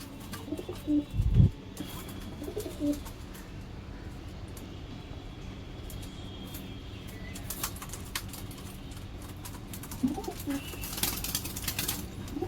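Soft coos from a male and female pigeon pair sound now and then over a steady background hum, with a brief thump early on and a few faint clicks.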